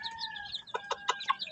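A pure Shamo hen clucks in a run of four or five short, evenly spaced calls, fairly close, with a thin sustained bird note behind them during a brooding session with chicks.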